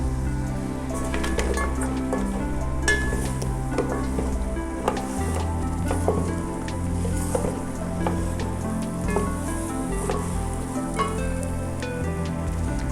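Mutton trotters (paye) sautéing in a pot, a steady loud sizzle with crackling pops and occasional stirring scrapes, continuous and close with no talk.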